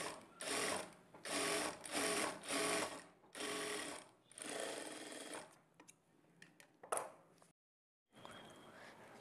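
A sewing machine stitches folded blouse piping in bursts of rapid mechanical whirring, stopping and starting several times before a short silence and a final run.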